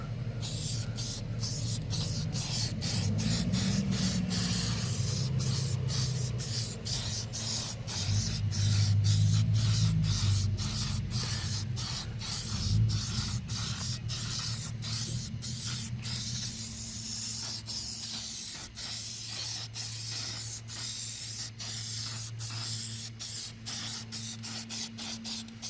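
Auto detail spray misted onto a car's paint in a long run of short, crisp hissing bursts, evenly paced, close up and with no talking.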